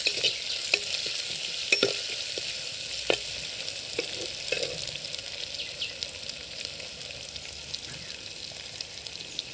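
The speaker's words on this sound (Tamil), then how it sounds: "கொஞ்சம் நேரம் வதங்கட்டும், ப்ரௌன் ஆகட்டும்." Crushed small onions and other ingredients for country chicken rasam sauté until brown, a continuous close sizzle with occasional spoon scrapes and stirring taps, no voices.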